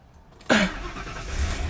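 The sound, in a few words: car engine starting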